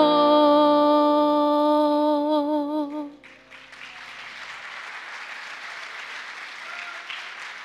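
A sustained tone and sung notes from a worship band at a Sunday church service end abruptly, and an audience breaks into steady, fairly loud applause that continues evenly to the end.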